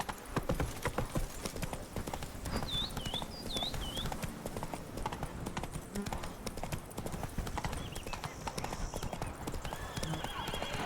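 Hooves of Roach, the horse in The Witcher 3 video game, clip-clop in a steady galloping rhythm under constant game ambience, with a few short neighs and whinnies rising over the hoofbeats.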